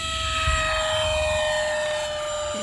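An E-Flite F-4 Phantom II radio-control jet with an 80mm electric ducted fan takes off on its maiden flight at full throttle. Its loud, steady, high-pitched whine with sharp tonal lines holds close and constant throughout, with a low rumble underneath.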